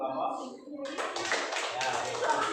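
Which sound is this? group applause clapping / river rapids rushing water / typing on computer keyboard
group applause clapping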